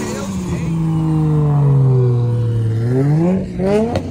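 A Shelby GT350 V8 revs up with a loud, deep roar that climbs and then falls back, with a quick blip at the end, close by at a car meet while a person talks over it.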